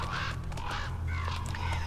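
A bird cawing in the horror video game Song of Horror: several harsh, repeated caws close by, layered over a low droning hum.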